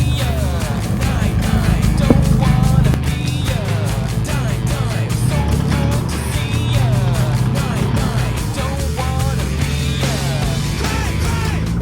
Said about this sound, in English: So we're just driving through a bit of a muddy section track at the moment.